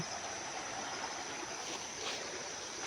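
Creek water flows steadily beside the bank, a continuous broadband rush that stays at an even level, close and unbroken.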